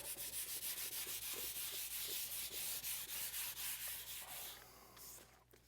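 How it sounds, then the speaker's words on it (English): Steady, rhythmic rubbing of grocery bag craft paper across a wooden tool cart top with water-based finish, roughly two strokes a second, close and scratchy, slowing and fading near the end. "regular grocery bag craft paper. I'm going to rub it"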